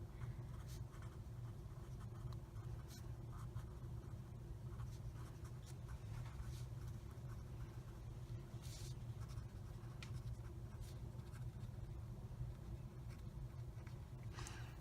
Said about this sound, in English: give you a minute to take notes while I'm writing